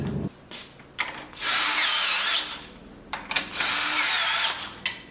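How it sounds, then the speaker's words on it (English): A power tool drives factory 12mm hex head bolts into a Yamaha MT-09 during a fender eliminator install, giving two long whirring high-pitched runs with short clicks and rattles before and between them. "you install the factory 12mm hex head bolts right back into their original place"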